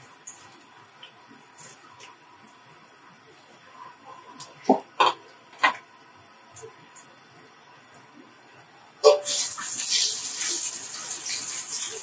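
Chopped onion goes into oil with garam masala for a mashkalai dal. Quiet, scattered clinks give way near the end to a sudden, bright sizzle that keeps going for the final few seconds.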